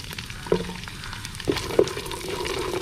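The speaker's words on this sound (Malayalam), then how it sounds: "നമ്മൾ മുന്തിരിയും കൂടെ ഇട്ട് വറുത്തെടുക്കുകയാണ് കേട്ടോ" Cashews and raisins frying together in a pan while making pasta payasam: a steady, moderate sizzle with a few soft clinks from stirring, and no talk.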